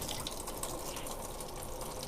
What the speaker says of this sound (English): So go ahead and drain the rest of my macaroni real quick.